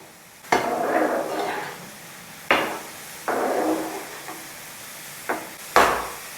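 Bitter gourd pieces frying in oil in a pan for a Kerala Onam sadhya pachadi, with a spoon stirring in bursts: a few sharp knocks against the pan and soft sizzling scrapes between them, close and without speech.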